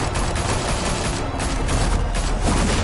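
Video game gunfire in a Gotham setting: dense, continuous automatic bursts roar loudly without a break for the whole stretch.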